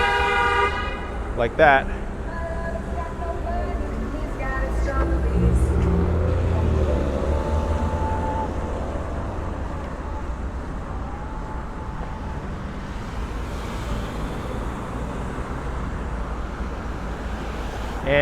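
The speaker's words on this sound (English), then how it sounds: "it's very intimidating to cross the street with all these cars coming" Cars stream past on a busy street near the Brooklyn Bridge by High Street subway station, with a few horn toots early on over a steady traffic rumble while someone talks.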